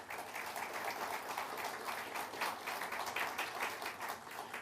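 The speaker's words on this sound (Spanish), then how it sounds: "Démosle un aplauso al Señor." A church congregation applauds in a sustained, even wash of clapping that holds at moderate loudness for several seconds, with no words over it.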